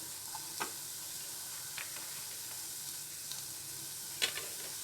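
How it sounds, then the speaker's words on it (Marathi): Carrots and corn kernels sauté in oil over low heat for a mixed vegetable soup, giving a soft, steady sizzle. A few faint taps and stirring knocks sound from the pan, and no voice is heard. "आता यात मी मका घालून घेते"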